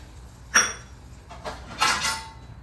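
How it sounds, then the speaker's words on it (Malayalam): A lid set onto a cooking pot of dried prawn and mango curry: a sharp metallic clink, a softer knock, then a brighter double rattle as it settles, close and with no talk. "ഇനി ഇത് അടച്ചു വെക്കാം."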